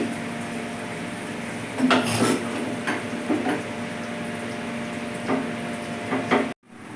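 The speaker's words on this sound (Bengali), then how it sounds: "এই যে আমি ডিশে ঢেলে ঢেলে নিচ্ছি" Cooked pumpkin greens and stalk curry scraped and poured from a pan into a dish, giving soft scraping and clinking bursts over a steady background hiss, ending abruptly.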